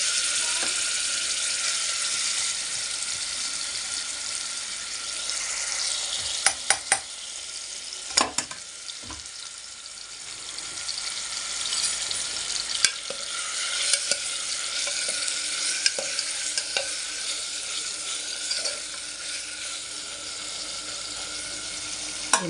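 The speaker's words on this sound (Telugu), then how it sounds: "పచ్చి వాసన పోయేదాకా వేయించడం ఇలా వేగుతుండగా" Mutton fries in a pan for a gravy curry, giving a loud, steady sizzle with a scattered clatter and scraping of a spoon as the meat is stirred.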